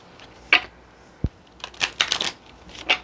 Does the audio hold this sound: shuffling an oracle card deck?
yes